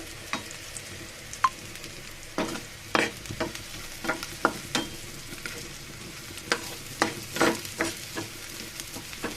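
Onions and green chilies fry in a pan with a soft, continuous sizzle, broken by frequent light scrapes and taps of a spoon stirring close by, no talking.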